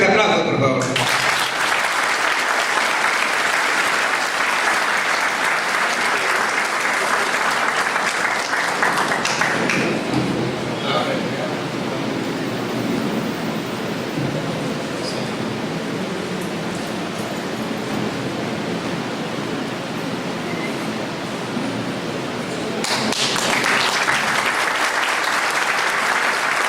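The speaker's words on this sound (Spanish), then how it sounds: "Fuertes aplausos, por favor." A hall audience gives sustained loud applause honouring a lawyer at a legal event, a thick continuous roar of clapping that dips slightly midway and swells again near the end.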